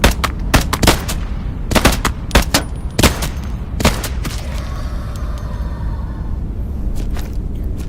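Loud gunfire in the Into the Radius 2 game: sharp, close shots ring out in quick bursts and single cracks over the first few seconds, then give way to a rumbling, echoing tail.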